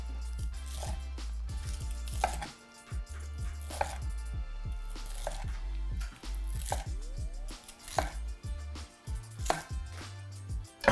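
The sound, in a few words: knife slicing stuffed chicken breast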